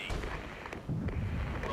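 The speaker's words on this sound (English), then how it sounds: "Artillery's hitting the Schützennerb nicely as well" Artillery fire lands on targets in a Cold War tactics video game against East German forces: muffled, booming impacts rumble at a distance, fairly quiet and overlapping one another in a short burst.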